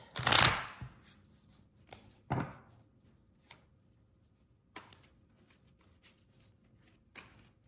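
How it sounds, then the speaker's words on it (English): Tarot cards being shuffled by hand close up in a quiet room: a sharp riffling burst at the start, a second one a couple of seconds later, then scattered softer flicks and taps. "I think you need to see some shuffling just so you know that they've been shuffled."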